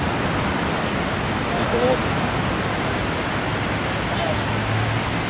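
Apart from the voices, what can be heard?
evening Andaman Sea surf, Phuket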